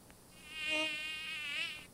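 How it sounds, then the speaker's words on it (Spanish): A fly buzzing in a Free Fire battle-royale match, a steady wavering whine that swells louder in the middle and fades slightly, heard alone without talk. "se escucha una mosca"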